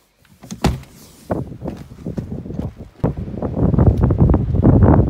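Gusty wind blows outdoors in snowy weather, with loud buffeting and rumbling that swells and builds toward the end, punctuated by a few sharp knocks and thumps.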